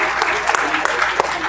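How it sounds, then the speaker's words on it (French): A crowd at a Quebec cryptocurrency convention applauds an introduced speaker, giving a brief burst of close, full clapping with a few sharper individual claps standing out. "Applaudissements."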